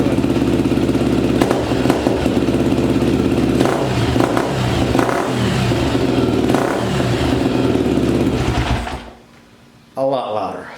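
A Honda XR250R motorcycle with a Pro Circuit slip-on exhaust revs loudly and steadily up close with a deep rumble, then the engine cuts out near the end before a brief restart burst.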